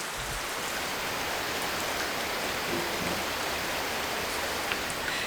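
Steady, dense rainfall in Ecuador, a constant wash of drops pattering on surfaces nearby, even and unbroken with no voices.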